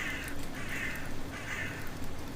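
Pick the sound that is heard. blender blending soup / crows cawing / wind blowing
crows cawing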